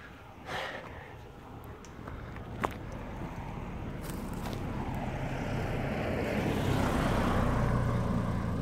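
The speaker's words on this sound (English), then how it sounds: "There is a car coming." A car approaches on a road, its rumble swelling gradually from faint to loud over several seconds, heard outdoors with wind and ambient noise while walking.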